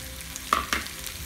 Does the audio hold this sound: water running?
no